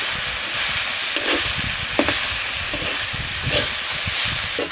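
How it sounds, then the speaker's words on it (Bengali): Jute leaves stir-fried in a pan, a steady loud sizzle and hiss with occasional scraping stirs, no talk. "শাকটা নাড়াচাড়া করে ভালো করে ভেজে নিলাম"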